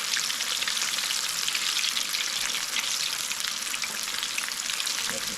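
Buttermilk-dipped, floured chicken pieces frying in a pan of oil for Southern fried chicken, a loud, dense, continuous crackling sizzle heard up close with no voices.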